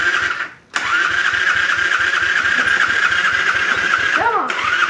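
A quad ATV whose starter has a grinding fault cranks in short rapid pulses, then catches and settles into a loud, steady close-up idle with a brief dip near the end, as people talk.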